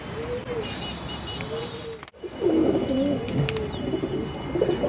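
A wild female pigeon coos on a rooftop, soft repeated throaty coos near the microphone, a brief dropout partway through and then more coos over faint chirps and background hiss.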